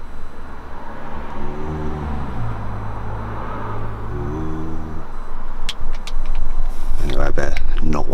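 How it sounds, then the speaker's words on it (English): Cars pass outside a parked Mercedes Marco Polo camper van, heard inside as a low road rumble with a steady droning hum that swells louder toward the end. "You really notice the cars up here"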